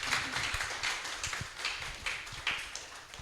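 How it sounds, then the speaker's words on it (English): Scattered clapping from an audience after a festival panel discussion, a moderate ongoing patter of hands without any talk over it. "Let's give them a round of applause."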